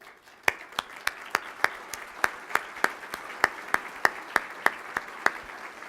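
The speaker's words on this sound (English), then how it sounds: "we'd love to give you a round of applause" Rhythmic clapping at a 20th anniversary luncheon for Phoenix-Mesa Gateway, honoring standing guests; sharp, evenly spaced claps about every third of a second, with a soft crowd background of scattered applause.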